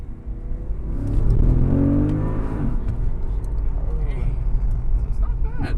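A Porsche Panamera pulls away and accelerates on a test drive, a low engine rumble and road roar swelling then holding steady, with people talking inside the cabin over it.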